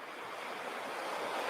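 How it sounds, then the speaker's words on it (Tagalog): Ocean waves wash softly onto a shore as a continuous, gentle hiss of surf, faint and even, with no voices or other sounds over it. "Pakinggan ang mga alon."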